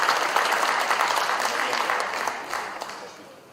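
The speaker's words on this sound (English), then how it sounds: "Please give an applause for Mr." A formal evening audience of distinguished guests claps to welcome Anies Baswedan, a full burst of many hands that thins and fades toward the end, with a few sharper individual claps near the close.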